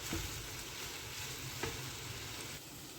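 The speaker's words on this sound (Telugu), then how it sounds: "సిమ్లో పెట్టుకొని మధ్య మధ్యలో ఇలా కలుపుకుంటూ ఉండాలి ఎందుకంటే మాడిపోతుంది కాబట్టి" Okra (lady finger) curry fries in a pan over low heat, a soft, constant sizzle broken by a few scraping stirs, heard up close without any talking.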